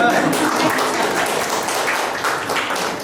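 An audience at a writers' gathering in a Bhubaneswar café claps steadily, a dense, even spread of many hands throughout, with no distinct voices on top.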